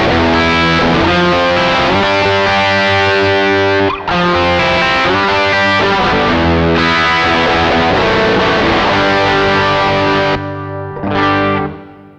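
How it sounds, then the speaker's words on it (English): Electric guitar through a two-stage overdrive pedal with low and high gain plus boost: loud, thick distorted chords ring out and sustain, with brief breaks between strummed phrases, played alone. "So you could have a two-stage overdrive, low gain and high gain."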